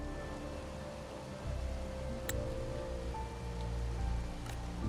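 Steady rain falls in a Wuthering Waves game world, a dense continuous patter with a low rumbling swell partway through and a couple of brief sharp clicks, moderately loud with no voices.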